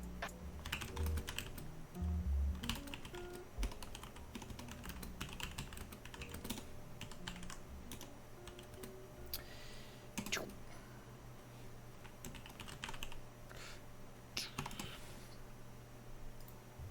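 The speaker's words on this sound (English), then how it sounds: "Fast typing." Fast typing on a computer keyboard, sending chat messages: continuous rapid clicking keystrokes, fairly quiet, over a steady background hum with a few louder key hits.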